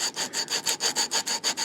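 Sandpaper of 150 grit rubbing back and forth over wood on a DIY RC sailboat build, about a dozen even, rhythmic strokes, close and clear with no talking.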